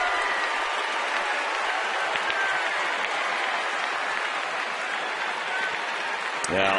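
Philadelphia fans at a Phillies baseball game roaring after a home run, a broad, steady wash of crowd cheer and applause lasting several seconds with a commentator's voice faintly under it.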